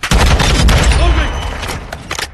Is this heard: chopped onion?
no